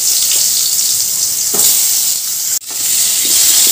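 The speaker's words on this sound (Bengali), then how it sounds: "এবার ওই কাঁকরোলগুলো তেলের মধ্যে দিয়ে দিলাম।" Pointed gourd (kakrol) pieces frying in hot oil in a wok give a steady, loud, close hiss and sizzle that runs the whole time, with a brief dip partway through, and no voices.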